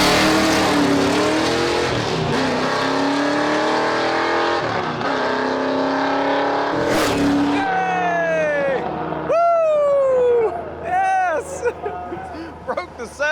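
OBS Chevy truck with a 632 big block and 6-speed making a drag run at night, loud engine roaring through climbing gear pulls with rising revs and shifts, under talk throughout.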